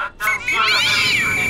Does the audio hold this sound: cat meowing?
yes